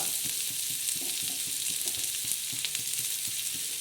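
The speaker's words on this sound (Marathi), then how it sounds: "तेल टाकलं आहे आता बघा मी हो, कांदा बी टाकून देते" Onion sizzling in hot oil in a pan for green chili thecha, a continuous bright crackle with frequent soft stirring knocks throughout, close and steady with no talking.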